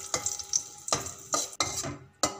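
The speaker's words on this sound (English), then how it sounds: "In the same ghee, we will add the raisins and stir it." Raisins frying in ghee, stirred with a utensil that scrapes and clinks against the pan in several distinct strokes over a soft, close sizzle.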